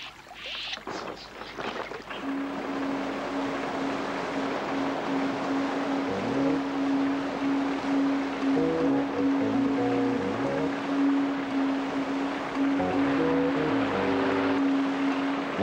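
A vehicle wades across a flooded river in the Australian wet season, its bonnet wrapped in tarpaulins: a steady wash of churning water and engine rumble with a constant low hum, continuous and close throughout.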